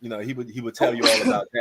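A person sneezes once, loud and close, right after a man's speech ends.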